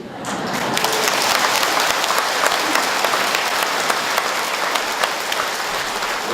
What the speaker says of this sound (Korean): 여러분들이 박수를 크게 쳐주면